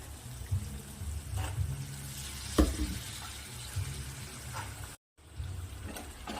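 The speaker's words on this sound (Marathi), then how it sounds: "हे बघा आपण याला असं छान मिक्स करून घ्यायचं आहे" A softened tomato masala with barbati beans is stirred in a pan over a low flame, giving a gentle sizzle with spoon scrapes and a sharp clink. The sound drops out briefly near the end.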